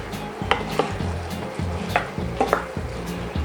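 Chicken adobo with radish and a splash of soy sauce is stirred in a pan, a low sizzle under rhythmic scraping and knocking of a spoon against the cookware.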